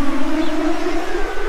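A wailing police siren rises and falls, loud and sustained, sweeping in pitch over a rumbling background.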